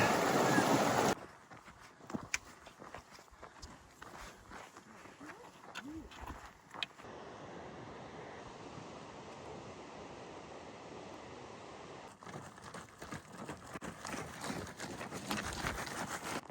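A small river rushes at a hiking trail crossing on the approach to Aconcagua base camp: a steady broadband wash of water, with brief wind and movement noises around it.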